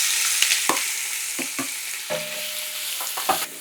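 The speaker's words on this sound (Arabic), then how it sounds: "اوكي، هسه حنزل بالبصل." Onions for Saudi kabsa hiss and sizzle steadily in a hot pot, with several sharp scraping clicks of a stirring spoon against the metal, close and alone without talk.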